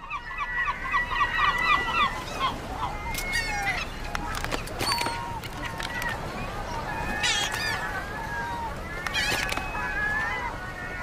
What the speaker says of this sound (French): Les mouettes investissent les bateaux de pêche à la recherche de nourriture.